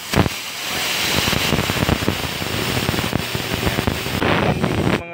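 Steady, loud rushing hiss of compressed air blasting from the nozzle of a self-service tire inflator air gun, continuous for several seconds with small fluctuations and a sharp cutoff at the end.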